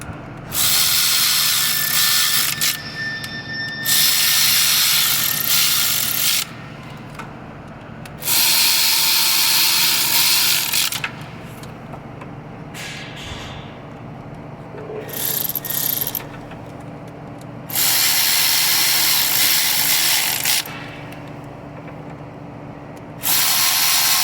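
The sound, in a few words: electric ratchet snugging down bolts on Honda Odyssey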